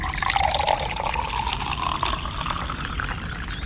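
Water pours into a glass in a continuous, steady stream with a rising fill tone, close and fairly loud, with no talking over it.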